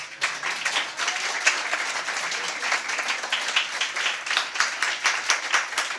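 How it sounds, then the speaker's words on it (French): Sustained clapping from a church family-service congregation for the children, a dense, even patter of many hands held steadily for several seconds with no voices over it. "Est-ce qu'on peut les applaudir quand même?"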